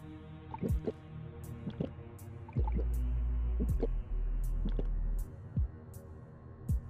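A video game character gulps down energy drinks and water in quick succession, wet liquid swallows and drips recurring in a loose rhythm over a low sustained background hum, close and fairly soft.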